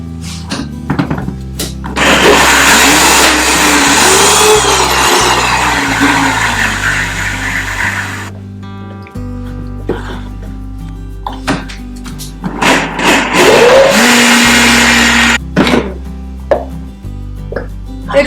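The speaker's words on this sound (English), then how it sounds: "What you want to do is keep blending it until it becomes creamy" Blender whirring as it purees food until creamy, two long loud bursts of dense motor noise separated by clunks, knocks and handling thumps.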